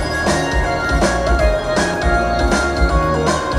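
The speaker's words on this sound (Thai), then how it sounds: "นี่เสียงถือว่าโอเคเลยเป็นไฟล์ทดสอบเสียงนะครับ" An audio test file of music plays through a Sony XAV-AX8100 single-DIN car head unit connected to an amplifier, subwoofer and speakers, giving full, loud, continuous sound with steady rhythmic beats.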